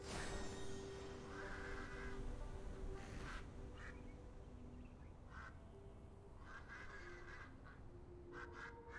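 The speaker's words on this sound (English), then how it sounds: "they're just very loud birds getting vortexed by elementals" Loud squawking and quacking birds caught in elemental vortexes in World of Warcraft Dragonflight, calling repeatedly in bursts over steady game ambience and music.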